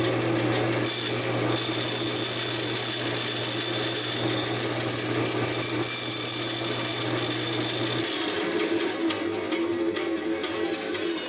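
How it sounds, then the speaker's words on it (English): A power tool whirs steadily and loudly while cutting a slot in a shim for the saddle of an Ampeg Nu Sonic guitar by Burns of London, with a low hum dropping away near the end. "So this is how I make a shim for this saddle. So I'm going to cut a slot."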